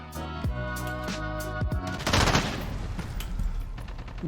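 Bursts of automatic gunfire in the video game Modern Warfare come as a few rapid volleys, followed by a louder blast and a clatter of shots, with game music and noise running underneath.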